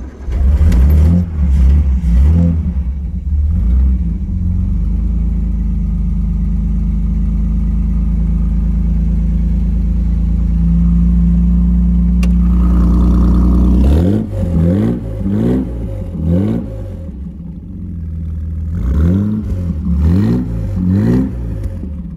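A 1964 Austin Healey 3000 MK3 BJ8 engine cranks and catches, settles into a loud, rumbling idle, then is blipped through repeated rising and falling revs, heard up close without talking.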